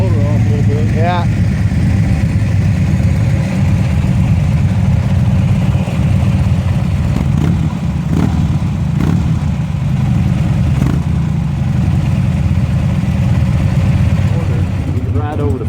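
A BMW F800GT motorcycle engine idles in a loud, steady low rumble close by, with people talking over it.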